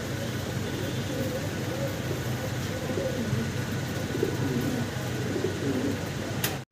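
Fancy pigeons coo in repeated soft, low, throaty calls at close range, with a faint background hum of engine noise and no clear talking.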